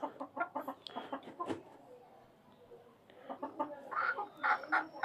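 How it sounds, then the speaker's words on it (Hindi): Australorp and desi hens clucking close by in a backyard coop, bursts of short clucks and calls that pause midway and return livelier, with someone talking over part of it. "अभी हमारी मुर्गियां खेल रही हैं"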